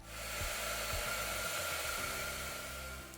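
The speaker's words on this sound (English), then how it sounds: "you're going to have to blow dry it to the front" A hair dryer blow-drying a man's hair forward, a close, continuous airy whir whose motor pitch shifts slightly as it moves around the head, with no voices.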